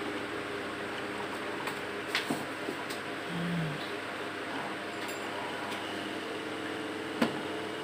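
An electric fan runs steadily after repair, a continuous whirring hum with a few faint clicks and knocks, heard alone at moderate level.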